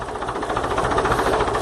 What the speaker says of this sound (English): Okay, I'll put the tractor in dead slow